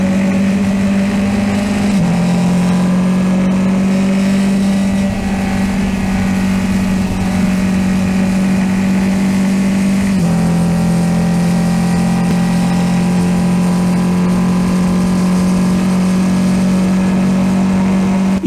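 Formula 4 race car at full throttle on the Dijon-Prenois circuit, running in the slipstream of a Formula Renault; a loud, continuous onboard engine drone that holds a steady high pitch, with brief dips and rises as it shifts gear.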